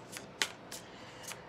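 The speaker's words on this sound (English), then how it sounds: "let me shuffle these cards real good" Tarot cards are shuffled close by in a quiet room, giving four quick, crisp riffling snaps spaced about a quarter second apart.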